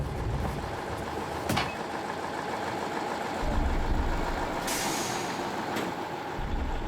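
A semi-trailer truck backs up on a winter ice road: a steady, moderately distant diesel engine rumble with short air-brake hisses.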